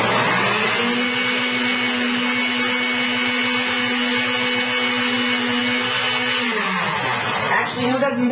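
A countertop blender whirs steadily at high speed while making green juice, a loud, constant motor whine that holds for several seconds before winding down near the end.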